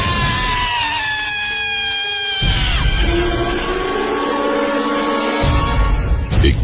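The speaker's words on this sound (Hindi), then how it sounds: "बाएं कान के पास उसे एक चीख सुनाई दी" A scream sound effect in a ghost story, heard as a loud, sustained wailing cry whose pitch wavers and then slides down, followed by further drawn-out screeching tones layered with low rumbling, with no speech.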